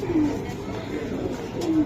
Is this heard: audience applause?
no